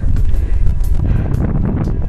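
Strong wind buffets the microphone in a steady low roar throughout on a plank railway bridge in South America, with no other clear sounds.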